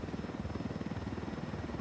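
Helicopter in the video game Ghost Recon Wildlands, a steady, rhythmic rotor thumping heard alone and at fairly constant loudness for under two seconds.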